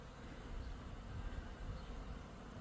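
Honey bees flying around wooden hives at an apiary in winter, a steady low buzzing hum of many insects close by with no talk over it.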